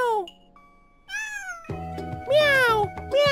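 A person imitating a cat, meowing into a microphone for a game: several close, loud rising-and-falling vocal meows, with a short gap before the second and a quick run of repeated meows at the end.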